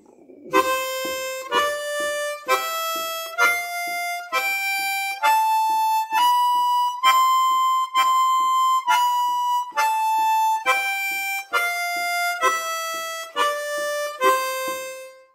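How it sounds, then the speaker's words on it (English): A harmonica plays a slow sequence of sustained single notes, each opening with a percussive slap, stepping up and back down in pitch. "each note will last for 2 beats, and I will put a tongue slap on the start of each note"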